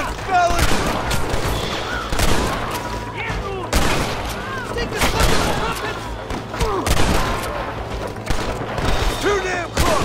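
Sustained gunfight in Red Dead Redemption near a clifftop, with rapid overlapping shots and volleys firing continuously and loudly throughout, occasional booms mixed in, and voices calling out over the shooting.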